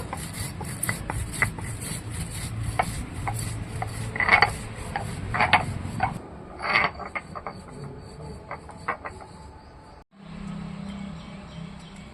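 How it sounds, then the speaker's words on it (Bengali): Roasted cumin seeds ground by hand produce a rough, repeated rubbing and crunching with irregular sharp clicks, which continues steadily before briefly stopping and resuming as a lower scraping. "আর ভাজা জিরেটা আমি এখন গুঁড়ো করে নেব"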